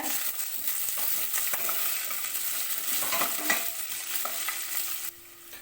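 Chopped onion and green chili are stirred in a pan for semiya upma, a soft, fairly quiet sizzle with light scraping that continues evenly and drops away near the end.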